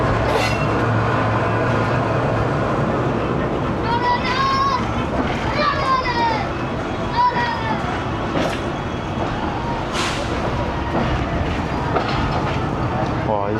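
A Pakistan Railways GU40 diesel locomotive, number 9049, hauling the Karakoram Express, passes with a loud, steady rumble and rail clatter, while several horn-like whistling tones sound over it and voices talk nearby throughout.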